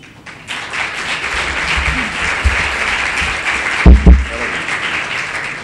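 An audience at a seminar on fasting gives a loud round of applause, sustained clapping close by, with a couple of heavy thumps near the end.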